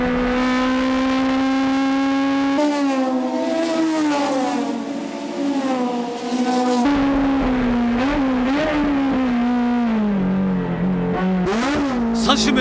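Toyota AE86 race cars roar flat out around the Tsukuba circuit, one engine's drone rising and falling through gear changes and throttle lifts while another car sounds close behind.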